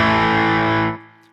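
A sustained electric guitar chord through an Ibanez Tube Screamer Mini overdrive pedal, gritty distorted tone ringing out loudly, then cut off, leaving a faint decaying tail.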